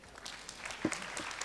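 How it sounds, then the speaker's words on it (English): Audience applause at a conference science discussion session, a brief burst of clapping from a seated crowd, moderately distant and fairly faint. "Ladies and gentlemen, a big round of applause for them, please."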